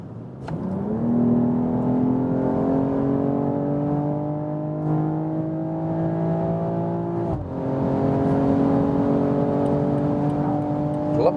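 A BMW M340i in M Sprint mode, engine revving hard as it drops several gears at once and accelerates: a rising, strained engine tone climbing steadily, a sharp break and gear change, then climbing again, close and loud with no talk.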